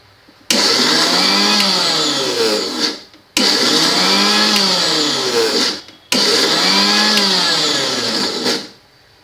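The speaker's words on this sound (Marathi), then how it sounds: "आता आपण हे मिक्सर करून घेणार आहोत।" Mixer grinder churning chilled cream into butter, running loudly in three long bursts of a few seconds each, each separated by a brief pause and ending as the motor winds down.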